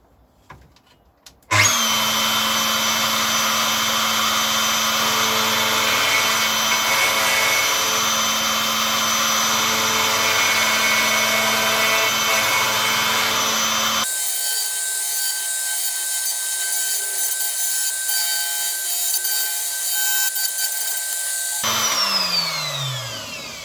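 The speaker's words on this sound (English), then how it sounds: "I'm just using this as a planer really, just to plane down to the right thickness" Power planer cutting down the wood of a 1959-style Les Paul Special guitar body: a steady, loud, close whining roar that runs for about twenty seconds, drops in tone partway through, then spins down.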